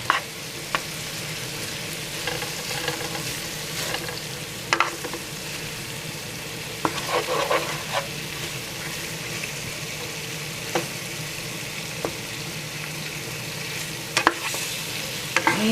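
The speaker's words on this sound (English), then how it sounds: "I'll let that just fry up a little bit." Meatballs frying in a little leftover grease in a non-stick pan give a steady, close sizzle, broken by occasional clinks and scrapes of stirring.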